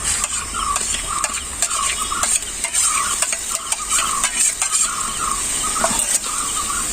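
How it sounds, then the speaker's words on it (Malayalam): Garlic, ginger and green chilli paste sizzles in a pan while a spoon stirs it constantly, with rhythmic scraping and clinking over a continuous close hiss of frying, and no talk. "എന്നിട്ട് നല്ലോണം മൂക്കണം വരെ ഇളക്കണം"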